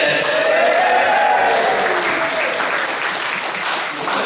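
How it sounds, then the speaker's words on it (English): A crowd at a talk cheers and claps loudly on cue, a sustained wash of applause with raised voices and whoops that slowly eases off. "Come on, you can do better than that. Give me a big cheer."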